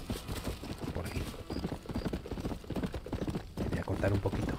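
Rapid, rhythmic hoofbeats of a galloping horse in the video game Red Dead Redemption, close and continuous, with some rattling and a brief whinny near the end.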